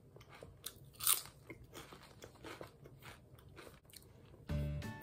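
Walkers cheese and onion crisps crunched close up, a series of brittle bites and chewing crackles at an even pace, with one sharper crunch early on.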